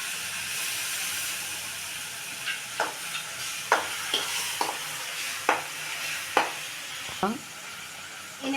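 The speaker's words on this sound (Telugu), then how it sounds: "ఈ నిమ్మరసం అయితే కొద్దిసేపు అయితే ఉడకనిద్దాం." Lemon juice mixture for pulihora simmering in a pan, a soft continuous sizzle with a series of sharp stirring scrapes and clicks at irregular intervals, close and fairly quiet.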